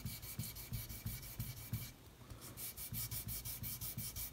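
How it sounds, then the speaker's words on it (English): Sandpaper polishes a guitar fret with quick, steady back-and-forth strokes, close and fairly soft, with a short pause midway before the even rhythmic rubbing picks up again. "we're now polishing the fret, so just running the sandpaper"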